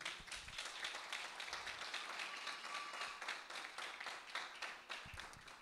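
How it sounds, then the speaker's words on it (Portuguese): A church congregation claps together during a sermon, steady rhythmic applause heard from a little distance, faint overall and continuing for several seconds without speech. "vamos aplaudi-lo por isso"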